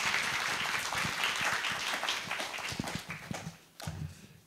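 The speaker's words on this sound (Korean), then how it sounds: "큰 박수로 맞이해 주시기 바랍니다." Audience applause fills a packed university lecture hall in Korea as a guest speaker is welcomed, a dense steady wash of clapping that thins out toward the end.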